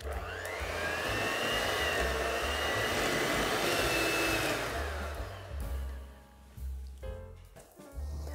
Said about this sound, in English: Now we're going to mix this the last time for about 3 to 4 minutes so that the butter and icing